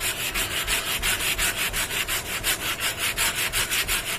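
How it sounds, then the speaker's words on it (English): Wood being worked with a hand sander gives off a steady, rhythmic rasping, each quick stroke repeating evenly, close and fairly loud with no voices. "We're going to do the best we can with the hand sander"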